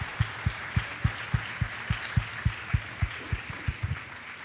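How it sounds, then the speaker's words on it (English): Applause at a council meeting general assembly, a modest crowd clapping through a steady wash, with a strong, regular low thump pulsing about three times a second beneath it. "I would like just a quick round of applause for all of them"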